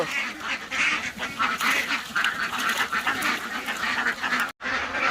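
A dense flock of laying ducks on a duck farm quacks continuously nearby, many overlapping calls forming a loud, busy chorus with a brief dropout near the end.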